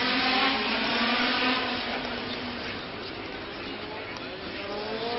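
A Lotus Formula One race car at the Monaco Grand Prix, its high-pitched engine wailing loudly and continuously as it passes, the note sliding gradually in pitch.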